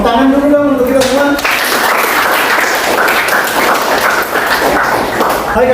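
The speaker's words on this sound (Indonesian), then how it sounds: "Tepuk tangan dulu dong untuk kita semua." Applause from a classroom audience at the close of a school lesson on erosion breaks out after a short stretch of speech and continues loud and dense to the end.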